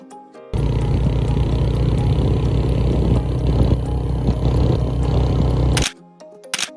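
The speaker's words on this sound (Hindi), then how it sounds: "मोटरसाइकिल की सही आवाज़ें निकल रही थी" A motorcycle engine on a mountain road on a Skardu bike tour, a loud steady drone that starts abruptly and cuts off near the end.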